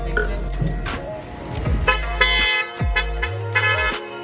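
A newly fitted vehicle horn being tested in a few short honks, close and loud, with people talking around it.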